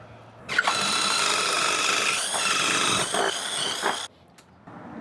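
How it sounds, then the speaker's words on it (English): A power drill whines loudly for about three and a half seconds, straining and shifting pitch as it bores, then cuts off abruptly. "I might need to drill another hole for the second one."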